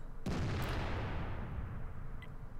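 The FV207, a British self-propelled artillery gun in World of Tanks, fires a single deep boom that rolls out into a long, rumbling decay, heavy and close, with no voices.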